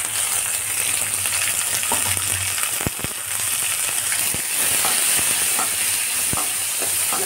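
Tomato sizzles and fries in a pan with onion, green chili and curry leaves for a tomato kurma, giving a steady, close hiss broken by a few sharp pops and spatula scrapes.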